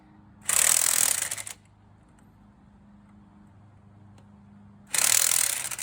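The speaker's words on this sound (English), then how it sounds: "We have my helper Todd doing the tightening down the nuts here." Two bursts of rapid ratchet clicking from a hand wrench tightening nuts during a Dodge Durango brake job, each lasting about a second, close by, with a quiet garage pause between them.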